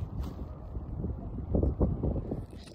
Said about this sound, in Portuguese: Aqui tem bastante vento.